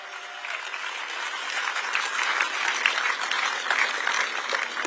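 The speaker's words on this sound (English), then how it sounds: "Give a round of applause to the AV team" An outdoor celebration crowd at the opening of America's 250th anniversary festivities gives a round of applause for the AV team, a broad, sustained clapping that swells slightly and stays steady.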